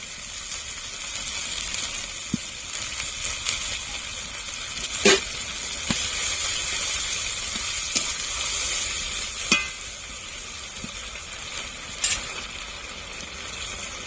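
Chicken kosha cooking in a pan as the water used to rinse ground spice paste goes in, a steady frying sizzle and hiss with occasional sharp stirring clicks against the pan throughout, no voices.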